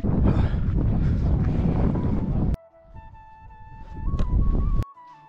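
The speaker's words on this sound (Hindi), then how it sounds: "बहुत ज़्यादा तेज हवा चल रही है यहाँ पे" Strong cold wind buffets the microphone at a hilltop temple, a loud broadband roar for about half the span, then briefly drops away before gusting up again, with faint tonal sounds in the quieter gap.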